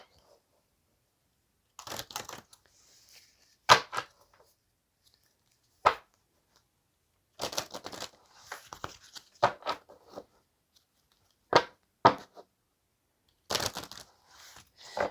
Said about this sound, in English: So we are going to do a quick shuffle here.